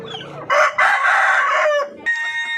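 A Darag native rooster crows loudly and close in its coop, one long strained cock-a-doodle-doo after some low clucking, with a short cackle trailing off at the end.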